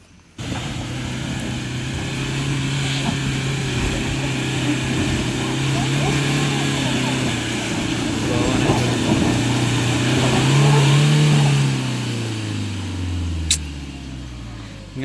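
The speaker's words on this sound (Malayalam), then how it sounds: "ഇത് ഈടെ വണ്ടി കയറി, ഈടുന്ന് ടയർ വെറുതെ കറങ്ങുന്നതിൽ കയറി പോകില്ല" A Tata Yodha pickup struggles up a rain-wet hill in Kasaragod, its engine droning close and loud while revving up and down as the tyres spin. The pitch sags toward the end, and a sharp click cuts through.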